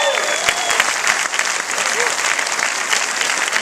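Applause from the audience at a world film premiere Q&A, a loud, sustained roar of clapping with sharp individual claps standing out and voices mixed in underneath.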